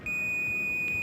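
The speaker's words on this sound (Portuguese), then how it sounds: "tem que fazer bip ou não tem que fazer bip?" A continuity tester checking a component pulled from a microwave oven gives one steady, high electronic beep that holds for about a second, close and clear, with no talk over it.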